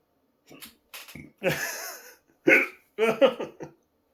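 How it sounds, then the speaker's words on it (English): A person hiccups after eating spicy food, giving several short, close vocal jerks and breathy catches spaced irregularly over a few seconds in an otherwise quiet room. "there's a hiccup, though"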